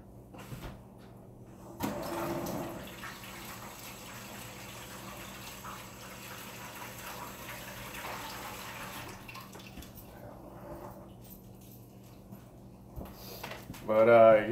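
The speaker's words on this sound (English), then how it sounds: "Let me wash my hands real quick." Hands are washed under a running tap at home, a steady, moderately quiet stream of water flowing for several seconds with a brief stronger splash near the start and some clatter at the end.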